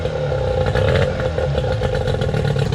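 An outboard boat engine starting and running on a test setup, a loud, close, rough clattering idle with a steady low throb and rattly texture throughout.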